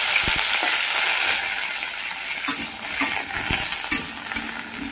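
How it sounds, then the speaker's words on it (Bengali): Cauliflower frying in leftover oil gives a steady sizzle under occasional clinks and scrapes of a utensil against the pan, close and fairly loud, with no talking. "ফুলকপিগুলোকে ভেজে নেব।"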